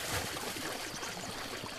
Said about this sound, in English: Nice water sounds going on.